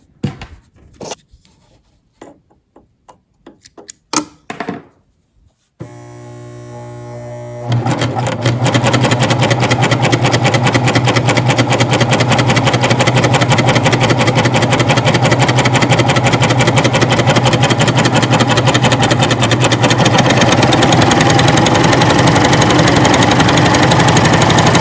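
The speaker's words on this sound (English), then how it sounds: "let's go ahead and do some stitching" A coverstitch machine sewing with thick thread starts with a few sparse clicks and taps, then settles into a loud, rapid, continuous mechanical whir of stitching that runs steadily to the end, with no voices.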